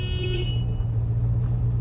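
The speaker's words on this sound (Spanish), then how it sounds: "I put a speaker in the back of my dad's truck and played honking sounds." Recorded car horn honks played through a loudspeaker in the back of a pickup truck, a steady sustained blare that is loud and close, cutting off partway through over a low engine rumble.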